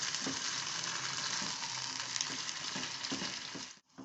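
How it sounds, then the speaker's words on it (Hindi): Thin beef slices for pasanday frying with onion, a loud steady sizzle with occasional stirring scrapes, cutting off abruptly just before the end; no one speaks. "इसको मैं प्याज के साथ ही थोड़ा सा फ्राई कर लूँगी।"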